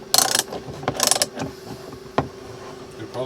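Jaws of a new Matco bench vise being quickly adjusted, giving two bursts of close mechanical ratcheting and sliding clatter, then a sharp click and faint handling noises.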